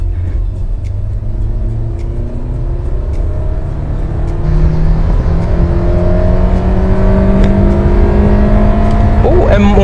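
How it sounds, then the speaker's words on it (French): A Hyundai Sonata Sport Tech engine revs up toward 6500 rpm, its rising tone climbing steadily and growing louder, with a continuous rumbling drone throughout. "Oh, elle monte jusqu'à 6500 tours minute."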